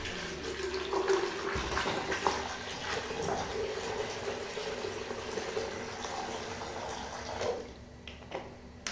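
Water poured into a taco for fruit soup, a continuous close splashing pour lasting several seconds before stopping abruptly.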